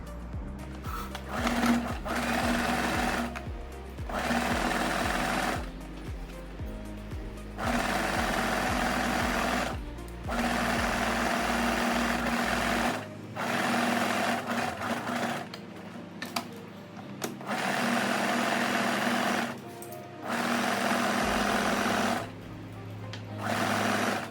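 Sewing machine running in repeated bursts while stitching the side seam of a tie back dress with a gathered empire waist, each stretch of steady mechanical whirring broken by short pauses, close and loud, with no talking.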